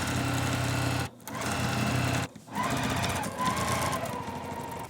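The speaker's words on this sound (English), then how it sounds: "and then I can keep sewing." A sewing machine runs in steady bursts stitching a seam on a gingham pillowcase, stopping briefly twice as the needle is left down and the fabric turned, then whirring on close and loud.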